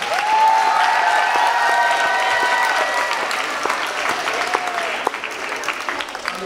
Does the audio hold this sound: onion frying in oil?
no